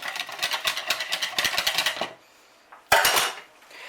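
A whisk beats milk and corn flour in a bowl, giving a fast, steady run of metallic clicks and scrapes that stops, falls quiet, then returns in one more short, loud burst.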